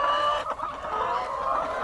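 Young hens cluck in a continuous, close, busy chorus of overlapping calls on a poultry farm.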